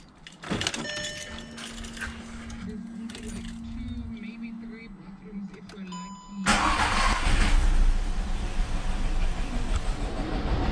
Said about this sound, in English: let's start this car and check if everything is alright